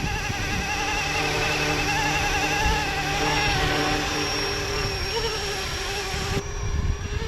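A Roban MD-500E Little Bird RC helicopter, a small park flyer, flies nearby with a steady, loud, buzzing electric whine that holds constant pitch and then shifts slightly toward the end.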